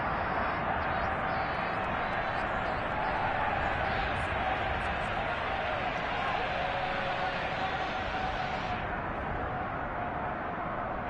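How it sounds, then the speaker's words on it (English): A dense, steady roar of stadium crowd shouting in the Madden football game, continuous and loud throughout with a voice calling over it. "Plenty of shouts from this crowd as they watch the replay"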